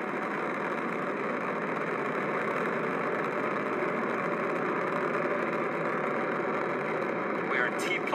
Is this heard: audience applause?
no